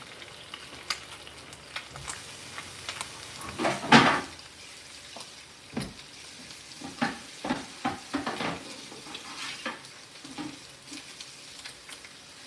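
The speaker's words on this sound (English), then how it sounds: "I turned the heat up. Now we can hear it sizzling and grizzling and stuff like that." Food frying in a pan on a stovetop after the heat is turned up, giving a close, continuous sizzle and crackle punctuated by scrapes and knocks of stirring.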